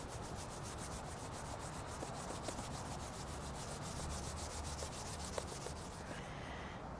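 Hands rub together briskly in a continuous soft, dry friction rasp. The strokes are even and the sound stays close and quiet, with no voices.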